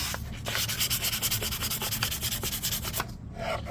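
Hand sanding with 400 grit sandpaper takes the finish off a Predator biomask, rapid rhythmic back-and-forth scratching strokes, close and loud, with a brief pause near the end.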